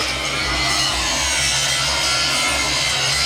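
An angle grinder cuts out the welds on the fifth wheel of a Kenworth W900A truck, a loud, continuous, harsh grinding roar that holds steady throughout.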